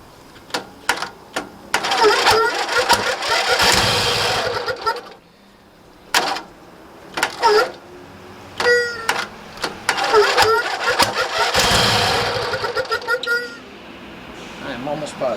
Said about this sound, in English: It's trying to spin and it's backfiring and not wanting to run properly.